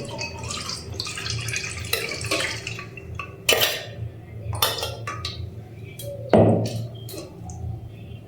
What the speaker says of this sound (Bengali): এবারে স্টেনারের মধ্যে আমি এটা ঢেলে দিচ্ছি।